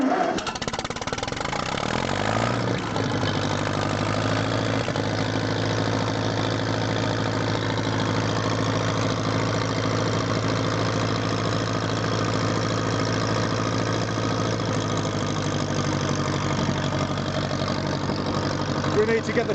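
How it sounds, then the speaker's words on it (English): A 1957 Ferguson FE 35 vintage tractor engine cranks briefly, catches and settles into a steady, loud idle that runs on unbroken, heard close up. "Little bit of throttle, down with the clutch there, and then hopefully we'll turn the key and she'll go."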